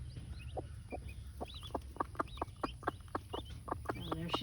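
A mother hen clucks with her chicks, a run of short, evenly spaced clucks close by, mixed with high thin chick peeps over a low background rumble.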